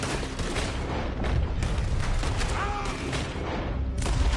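A gunfight in Red Dead Redemption 2, with dense, continuous gunshots and booming blasts at steady loudness, overlapping throughout the clip.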